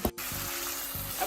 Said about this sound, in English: So we give the tomatoes a few minutes for it to cook.